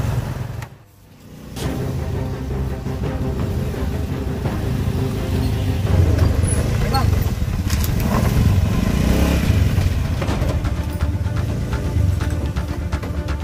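A motorcycle engine runs steadily and fairly close on an Indonesian street, a continuous low mechanical rumble after a brief dip at the start, with faint clatter mixed in.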